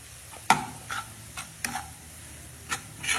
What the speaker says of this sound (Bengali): আর রসুনটা পুরো ভাজা হয়ে গেলে ভালো লাগবে না।